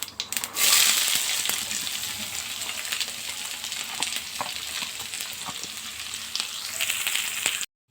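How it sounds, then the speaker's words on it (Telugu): Onions frying in hot oil with crackling cumin and mustard seeds for a stuffed brinjal dish, a steady loud sizzle with scattered pops and stirring, no talk. "పోపు చిటపట్లాడుతుందండి"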